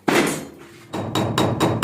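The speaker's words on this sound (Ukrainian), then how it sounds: "Петрович арматуринок клей вимазав і забиває." Rebar coated in glue is hammered into a wall during an apartment renovation: a few loud, sharp metallic hammer blows land close by, with a short pause between the first strike and a quicker run of three or four more.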